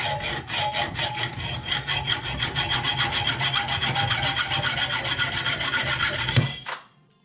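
A hacksaw cuts through a metal nail in quick, steady back-and-forth strokes, loud and close, for about six seconds before the sawing stops abruptly.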